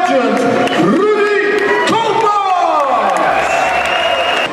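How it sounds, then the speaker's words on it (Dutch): A crowd applauds and cheers a boxer at Carré, a steady, loud roar of clapping that runs throughout while an announcer speaks over it. "Dames en heren, Carré, geef een ovationeel applaus voor de living legend, Rudy"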